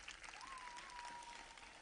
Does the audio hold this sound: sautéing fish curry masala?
no